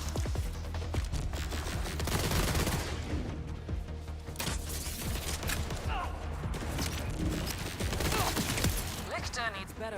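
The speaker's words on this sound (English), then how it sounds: "this particular gun gets critical hit ricochets" Rapid gunfire from a non-elemental gun with critical-hit ricochets in Borderlands 4, a dense burst of shots near and loud, continuing over game music with brief voices.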